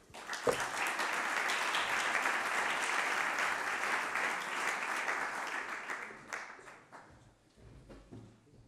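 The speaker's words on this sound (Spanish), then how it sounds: "Les pido un aplauso para don Eduardo Bahamonde." An audience at an agri-food cooperatives event bursts into loud, sustained applause that holds steady for several seconds before tapering off into scattered claps.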